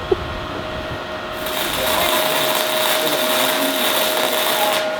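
Gasless flux-core welding on a homemade steel trailer frame, a steady crackling hiss that starts after a brief hum and holds loud and continuous for several seconds, no voices.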